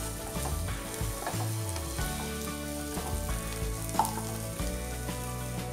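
Onions and green peas sautéing in oil for a Tamil poori masala with potato, a steady close sizzle with soft stirring scrapes throughout, no talking.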